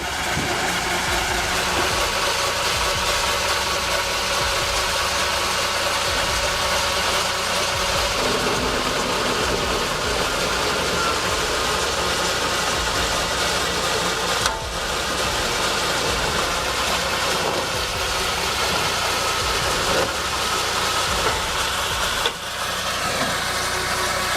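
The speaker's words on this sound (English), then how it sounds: "Powered by a tractor's PTO, it scrapes bark off pine logs with pure mechanical rhythm." A tractor PTO-powered debarking machine scraping bark off pine logs drones continuously with a steady mechanical engine hum and grinding, broken by a couple of brief sharp knocks, loud and close throughout.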